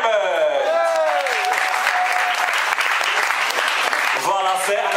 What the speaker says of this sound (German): Machen wir da einen Applaus